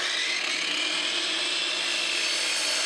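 A power saw cuts 1/2 inch plywood, a steady, close, bright whine and rasp that holds evenly throughout without a break.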